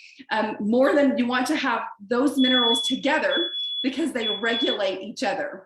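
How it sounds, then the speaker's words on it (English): A household smoke alarm sounds in thin intermittent high beeps beneath someone talking steadily up close, the tone faint and partly masked by her voice. "so that's my smoke alarm going off"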